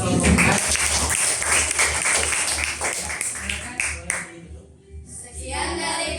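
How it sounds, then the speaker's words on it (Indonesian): Applause from a classroom audience for the fourth presenting group at a university session, close and somewhat uneven, thinning out near the end. "silakan beri tepuk tangan buat kelompok keempat."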